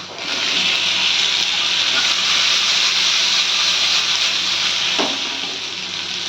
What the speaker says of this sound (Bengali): এরপর দিয়ে দিচ্ছি কচুটা।